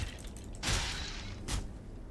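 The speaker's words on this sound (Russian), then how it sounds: "что я слышу звук скелета." Skeleton noises in a Valheim dungeon, in the Mistlands, come as two short bursts of dry rattling clatter over a low background hum, with no talking.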